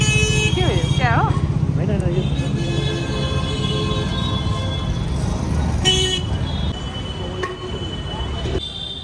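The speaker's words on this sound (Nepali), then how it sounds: "कति हर्न चाहिँ बजाएको होला नि त काम नकाजको हर्न बजाएको" Vehicle horns toot repeatedly on a crowded Delhi street, several short and wavering blasts near and far over dense traffic rumble.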